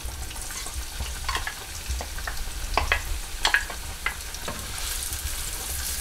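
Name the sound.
onions frying in hot oil in a pot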